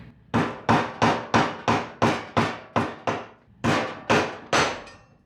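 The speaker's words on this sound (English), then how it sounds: "you jam a screwdriver here, and you give it a whack" A screwdriver is struck repeatedly to twist the fuel pump lock ring on a 2002-2005 Dodge RAM 1500 5.7 Hemi tank, giving about a dozen sharp, evenly paced metallic whacks close by, with a short pause before the final few.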